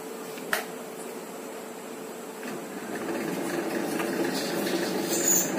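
Just after a new belt is fitted, a wet grinder is switched on with a brief click and settles into a steady motor hum that grows a little louder and fuller partway through.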